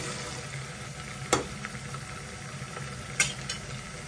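Onion, ginger and garlic paste sautés in a pan for a mutton curry, a soft steady sizzle with two sharp spoon scrapes against the pan and no voices.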